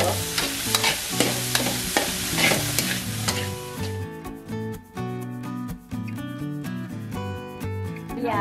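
Vegan filling with green onions stir-fried in a pan, with a steady sizzle and scraping stirs under prominent background music.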